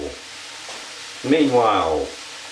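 Mushrooms sizzle briefly in a pan as they are stirred, a short rising burst of frying over a faint background hum.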